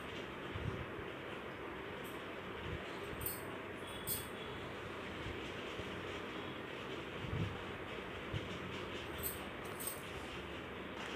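A sewing machine stitches a line along white cloth for a dastarkhan, a steady fast mechanical whirr with faint rhythmic clicking, continuous and close.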